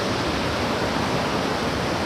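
Water pours from a dam into a large village reservoir tank, a loud, steady broadband rush like a waterfall with no breaks and no voices.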